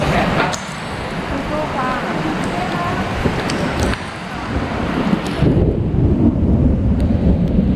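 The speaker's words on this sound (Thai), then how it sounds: "ตะกี้ฟ้าผ่า ข้างหน้าเลยอ่ะ" A thunderstorm rolls over a rainy marathon course in Thailand, with deep rumbling thunder, steady rain hiss and buffeting wind noise on the microphone, and a louder crack-like swell late in the clip.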